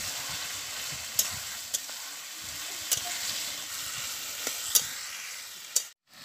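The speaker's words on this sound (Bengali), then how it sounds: "1 মিনিট পর ঢাকনাটাকে খুলে আবারও একবার নেড়ে নেব।" Chicken curry in a spiced red gravy sizzles in an uncovered pan as it is stirred, a steady close crackle punctuated by sharp spatula clinks against the metal, then a brief pause at the end.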